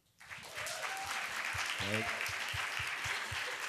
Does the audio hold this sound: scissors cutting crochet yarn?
no